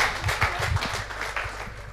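A short burst of applause from an audience at a New Year's talent show, dense clapping that fades slightly over two seconds.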